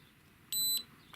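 A single electronic beep from a Wunder360 C1 360 camera as its mode button is pressed, a short steady tone lasting about a quarter second against a quiet background.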